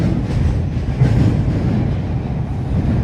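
Toronto Line 2 Bloor-Danforth T1 subway train running on track near the Greenwood yard, a loud continuous low rumble with rhythmic wheel clatter and no voices.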